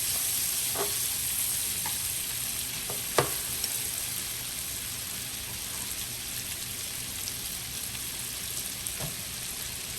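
Sun-dried tomatoes sizzle loudly and steadily in a hot pan while cooking Chicken New Orleans, a dense continuous frying hiss with a few sharp pops and light clinks, and no talking.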